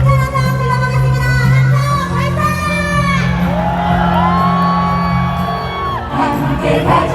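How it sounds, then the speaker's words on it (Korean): Large outdoor rally crowd shouting a rising cheer, loud whoops and sustained yells blending with amplified voices, close and energetic throughout. "힘찬 함성 불러보겠습니다"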